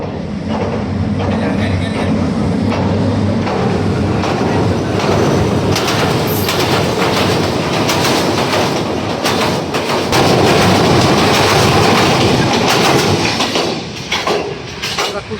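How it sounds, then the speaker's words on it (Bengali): A train rolls past close by near a fishing spot at Joyer Tek in Gazipur, Bangladesh, a loud, steady rumble with rhythmic wheel clatter that holds for the whole stretch and swells slightly toward the end. "অলরেডি ট্রেন চলে আসছে"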